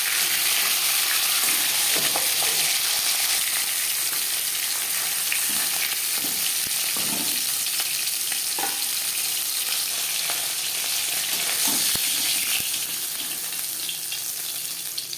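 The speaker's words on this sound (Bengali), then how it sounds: "মাছের মাথা আমি একটু কড়া করেই ভাজলাম। মাছ আমি হালকা করেই ভেজে নেব।" Hilsa fish pieces fry in a pan of hot oil, giving a constant loud sizzle with scattered pops and crackles throughout and no speech.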